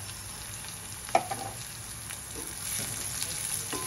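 Garlic and chillies fry in oil with turmeric, a soft even sizzle near the pan with a sharp utensil tap and a few light stirring scrapes, no one talking.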